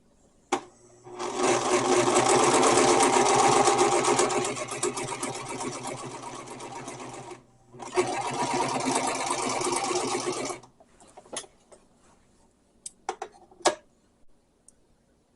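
A serger stitches along a fabric edge, starting slowly and then running in a steady close-up mechanical whir for several seconds, pausing briefly, running again, and finishing with a few separate clicks and ticks.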